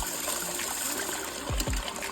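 Water flows steadily through a gold prospecting sluice with a constant close trickling rush and a brief splash near the end.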